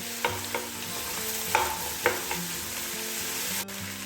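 Onions fry in a pan over high heat with a steady, close sizzle, punctuated by a few soft knocks and scrapes as they are stirred.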